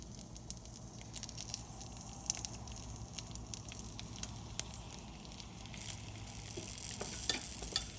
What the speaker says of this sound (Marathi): आणि ही जी कारली आता आपण भरलेली आहेत ती त्यामध्ये आपण एक एक ठेवू